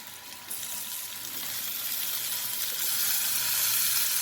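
Kidney and liver frying with crushed ginger, garlic and curry leaves give a steady, bright sizzle that swells slightly over a few seconds, close and continuous with no voices.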